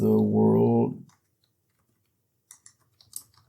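A person types on a computer keyboard running MS-DOS BASIC on a 1980s-era PC. A short spoken phrase comes first, then a brief silence and a few quiet, scattered keystrokes.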